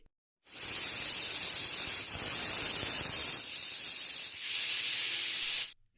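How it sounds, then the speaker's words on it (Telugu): A pressure cooker of dal on a kitchen stove releases a sustained, loud hiss of escaping steam lasting several seconds, with slight swells, then cuts off abruptly. "నాలుగు నుండి ఐదు విజిల్స్ వస్తే సరిపోతుంది"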